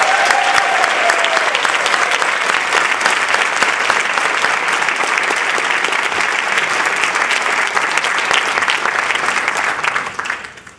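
Loud, sustained applause from a large conference audience at a district spring conference, dense continuous clapping that holds steady for about ten seconds before tapering off at the end.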